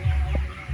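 A brief chicken cluck rises once over a steady low rumble of background noise during a chicken harvest.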